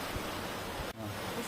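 A natural waterfall in Italy, a steady broadband rush of falling water, close and continuous, with one brief dip in the roar.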